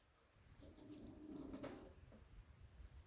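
Brief hissing burst from the steam wand of a Breville Barista Pro BES878 espresso machine, run to purge milk from inside, a soft steady rush rising and fading over a few seconds.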